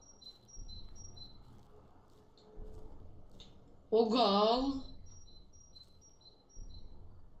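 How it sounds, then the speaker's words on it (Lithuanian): Birds chirp in the video game Slender: short, high, repeated tweets in an even pattern, fairly faint, while people talk over them and one brief louder vocal burst rises in the middle. "Čia paukščius čiulba."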